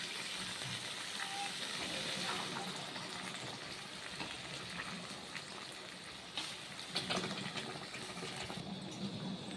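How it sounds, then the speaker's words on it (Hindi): Water is poured into a pan of harira cooking on the stove, making a steady hissing, bubbling pour that continues for several seconds, with faint kitchen clatter partway through. "अब हम इसमें थोड़ा सा पानी डाल देंगे।"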